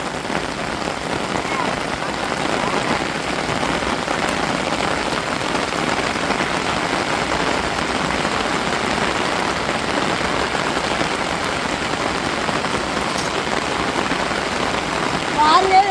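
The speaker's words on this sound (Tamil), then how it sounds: "சரியான மழை இங்கே பாருங்க தண்ணி கட்டிடுச்சு" Heavy rain pours steadily outside a house, a dense continuous hiss of drops on surfaces that stays loud and unbroken throughout.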